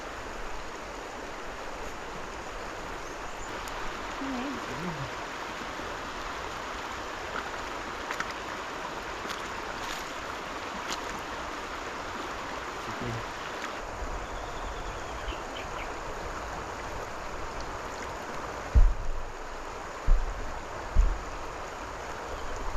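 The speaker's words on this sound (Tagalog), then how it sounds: "Mas gusto ko umispat sa mga ilog na ganito dahil meron tayong running water" A river's running water flows steadily at a riverside camping spot, a continuous broad wash with no talk, broken near the end by a few low thumps.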